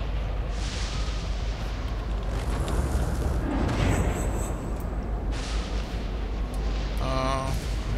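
Heavy booming gunfire in Saints Row: Gat Out of Hell, continuous rumbling blasts and explosions over several seconds, ending in a burst of rapid shots, with no voices.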